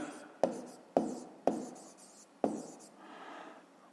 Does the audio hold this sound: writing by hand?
yes